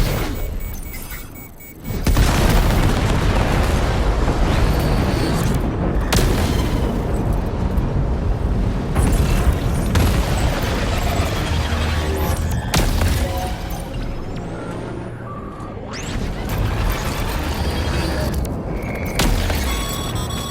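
Heavy weapons fire in Death Stranding 2 erupts after a brief lull into a sustained barrage of loud, overlapping explosions and blasts, rolling on continuously with sharp bursts punctuating the din.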